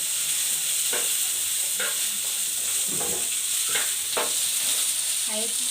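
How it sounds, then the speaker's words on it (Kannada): Cluster beans (gorikayi) fry in a little oil in a pan, a steady close sizzle with several scraping stirs of a spatula at irregular intervals, no talking. "ಇದೇ ಬಾಣಲೆಗೆ ನಾನು ಗೋರಿಕಾಯಿ ಫ್ರೈ ಮಾಡ್ತಿದ್ದೀನಿ"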